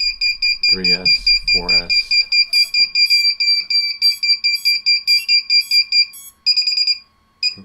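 A flight controller's onboard buzzer beeps loud and close in a rapid series of steady high-pitched tones, with a man's brief speech over the start.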